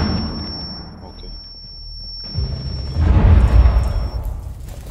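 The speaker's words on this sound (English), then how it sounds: "Can you throw a nade down there? Big brother. Flashbang." A flashbang grenade goes off in the tactical shooter Rainbow Six Siege, a loud broadband blast over a high, steady ringing tone that holds for several seconds as low game noise rumbles beneath.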